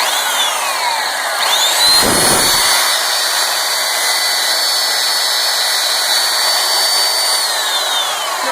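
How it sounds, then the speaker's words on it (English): A loud belt sander whines steadily against wood veneer, a continuous high-pitched grinding roar with a brief lower thump partway through. "I wouldn't belt sand it because belt sanding is going to probably get rid of the veneer real fast"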